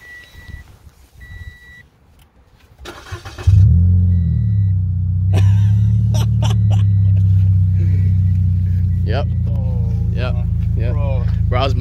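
Subaru BRZ fitted with an Invidia N1 catback exhaust and titanium tips fires up after a quiet moment, settling into a loud, deep, steady idle drone with people talking nearby.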